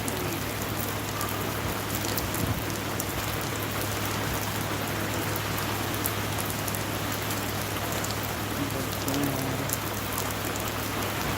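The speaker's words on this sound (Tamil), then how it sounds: "வானத்தை மேலே பார்த்தா மழை போகுது" A sustained heavy downpour in a village, the rain drumming on surfaces in a thick, even roar with no voices over it.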